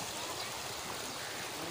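Steady, broadband rushing of the flooded Sutlej River, a continuous even roar of fast-flowing water with no pauses or voices.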